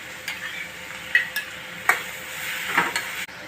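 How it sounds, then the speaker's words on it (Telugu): Raw prawns frying in a pan with onions and turmeric give a steady close sizzle, with a few sharp stirring clicks and scrapes along the way. "అలాగే పచ్చిరేలు వేసేస్తున్నాను."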